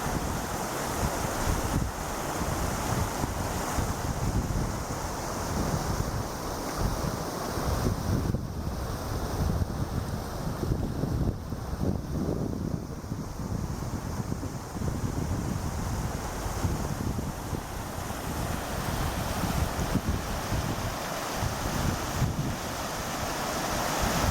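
Savage River stream in Alaska flowing steadily, a continuous broadband rush of water with wind buffeting the microphone throughout, no voices.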